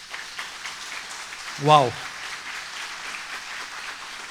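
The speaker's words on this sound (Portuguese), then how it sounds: "Aplauda bem forte ao Senhor." A church congregation claps during a worship service, a steady, moderately faint patter throughout. A single loud voice exclaims briefly partway through.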